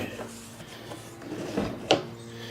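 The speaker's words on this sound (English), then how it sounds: "You just open the door up as you need it." The door of a homemade compost tumbler made from a 55-gallon drum is opened, a soft scraping slide followed by a sharp knock, with faint talk in the background.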